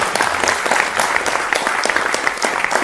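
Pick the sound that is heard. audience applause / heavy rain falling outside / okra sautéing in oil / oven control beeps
audience applause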